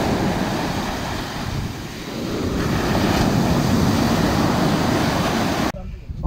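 Sea surf breaks on a beach near Gazipasa, a loud continuous wash of rushing waves with heavy wind buffeting the microphone, swelling slightly midway before dropping off at the end.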